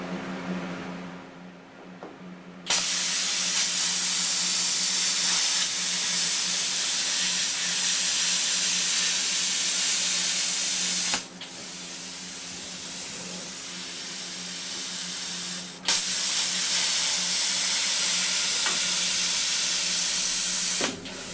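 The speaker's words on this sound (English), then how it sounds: "So I am cutting at 20 amps on the plasma." Steady, loud broadband hiss of a plasma cutter at 20 amps slicing a Foxbody car's sheet-metal floor, running continuously with two brief breaks where the cut pauses and restarts.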